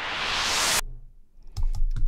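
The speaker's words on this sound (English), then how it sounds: "The next track is FX Noise City, which is a reverse cymbal sound kind of" Reverse cymbal noise effect from the Nexus FX Noise City preset, a hissing wash swelling steadily louder for under a second then cutting off sharply, followed by a few faint low thumps.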